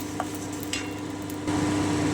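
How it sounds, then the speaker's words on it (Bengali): A pan dry-roasting whole spices gives off a soft, steady sizzle with a few light scraping stirs, rising slightly louder toward the end. "এবারে আমি একটুখানি ভেজে নিচ্ছি একটা সুন্দর গন্ধ বেরোবে"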